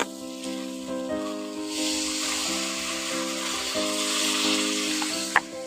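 Water goes into a pan of frying pointed gourd and potato masala, and the steady sizzle swells into a louder hiss while the mixture is stirred, ending with a single sharp knock.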